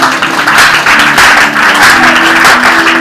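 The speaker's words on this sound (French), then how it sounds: "Acclamons très fort les sœurs" A church congregation applauds the sisters, a dense, steady wash of clapping and crowd noise that stays loud throughout with no break.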